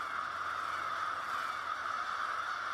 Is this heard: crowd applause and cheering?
no